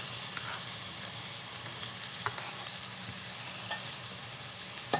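Garlic sizzles in a frying pan, a steady bright crackle and hiss with occasional small pops and stirring clinks, close and even throughout, no talking.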